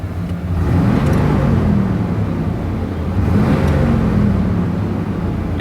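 An old Chevy Silverado truck engine runs at a loud, steady rumbling idle, with slight swells in pitch as it settles.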